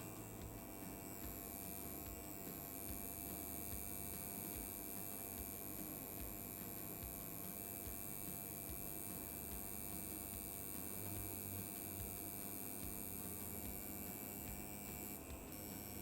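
Coil tattoo machine running steadily while drawing a line, a faint continuous electric buzz and hum that holds at an even level throughout, with no talking.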